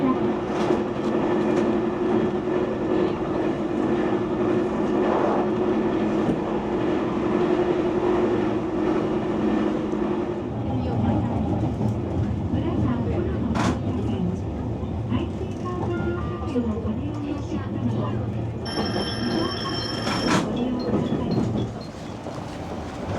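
A local train rolls along the rails from Oita with a steady rumble and hum, wheels clacking faintly, while a Japanese onboard announcement speaks over it and a brief chime sounds near the end.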